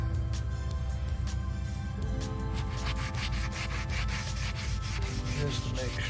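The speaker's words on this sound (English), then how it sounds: "I need to sand that out real quick." Steady sanding of a wooden desk surface being prepared for a wipe-on polyurethane finish, a continuous scratchy rubbing that runs throughout, close and fairly loud with no talking.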